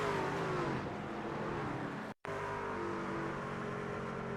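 Engine of a racing truck in a video game, in the Frontier Truck Tour at Watkins Glen, rising steadily in pitch as it throttles up, loud and continuous with a brief dropout midway.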